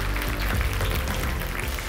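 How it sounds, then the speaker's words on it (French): An audience at a school debate final in Mauritius applauds, a soft, even patter of many hands clapping continuously at moderate distance. "Applaudis bien fort."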